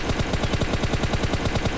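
A rapid burst of automatic gunfire, evenly spaced shots repeating about a dozen times a second, loud and close with no pauses.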